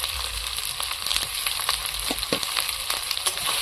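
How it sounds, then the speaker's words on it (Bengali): Potatoes, spices, turmeric, chilli powder and ripe tomato sautéed slowly in a pan, giving a steady soft sizzle with scattered scraping stirs and clicks, close and alone without voices. "এবার আলুর সাথে আর মশলার সঙ্গে আমি প্রায় তিন চার মিনিট ভালো করে আস্তে আস্তে কষিয়ে নেব মশলাটা"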